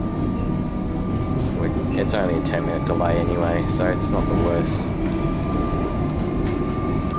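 A Melbourne suburban train runs toward Craigieburn, with a steady rumble and rolling rail noise heard from inside a carriage, along with squeals and whines, while a person talks over it.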